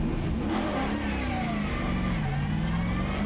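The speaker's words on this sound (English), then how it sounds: "This was from 2003 with its 7-litre V8 Chevy engine." A Holden Monaro 427C racer with a 7-litre Chevy V8 drives at speed on a hillclimb course, a steady loud engine roar that rises and shifts pitch under acceleration, with no voices.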